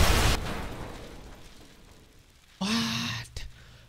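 A vehicle blows up in Teardown with an explosive-vehicles mod: a loud, broad blast opens and decays into a rumbling tail, followed later by a second burst of noise.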